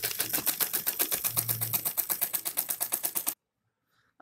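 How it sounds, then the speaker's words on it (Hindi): Sewing machine stitching a straight seam on fabric for a dress, a fast regular rhythmic chatter of the needle close and loud for about three seconds, then stopping abruptly into silence. "अब इसके ऊपर हम बिल्कुल सीधी सिलाई लगाएंगे"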